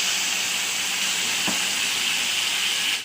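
Steady, loud sizzling and hiss of mushroom curry frying in a pan as water is poured in, with one brief clink midway before the sound cuts off abruptly.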